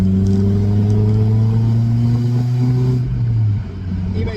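A supercharged BMW Z3 with a 1.9L engine accelerates hard, its loud engine note climbing steadily in pitch before dropping off as it shifts near the end, close and dominant.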